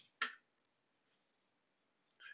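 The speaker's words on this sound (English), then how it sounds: "Let's double click it." Two quiet mouse clicks on a computer, a sharp first tick then a second a couple of seconds later, faint and close in an otherwise silent room.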